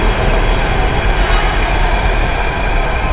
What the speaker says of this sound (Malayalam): ആ നമ്മുടെ അവിടുത്തെ പോലെയുള്ള ഒരു മെട്രോ അല്ല നല്ല സ്പീഡിലാണല്ലോ